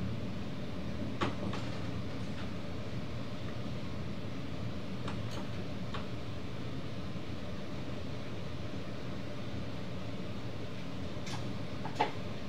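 An NS VIRM double-deck passenger train runs along the rails, a steady low rumble from inside the carriage with a few faint clicks and knocks over the track.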